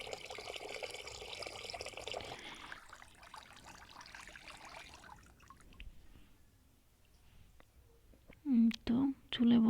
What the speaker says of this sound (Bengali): এই যে আমি চালটা ধুয়ে নিচ্ছি।